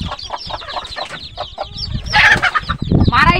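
A free-range desi country hen with a brood of thirteen chicks clucks repeatedly at close range, rising into louder, busier calls toward the end.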